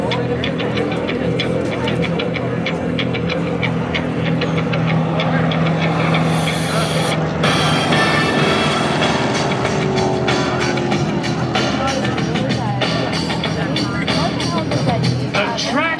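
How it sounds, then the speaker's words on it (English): A Corsair aircraft races a Jeep Trackhawk at an airshow, a continuous engine rumble and hum with a rising whine partway through, while an announcer talks over it the whole time. "We've got a race between the Corsair and the Trackhawk."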